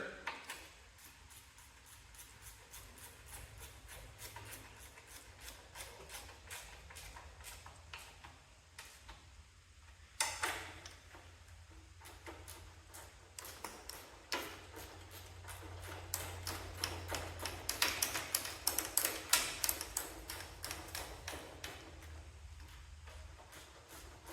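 Metal bolts being tightened on a Cub Cadet 1812 lawn mower frame, repeated ratcheting clicks and taps of a wrench, close and moderately loud, growing busier toward the end, with no talking.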